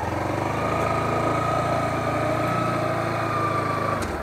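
A Bajaj Pulsar NS 160 naked motorcycle runs at a low, steady engine note during a slow turning manoeuvre, a continuous close throb that holds evenly before dropping slightly near the end.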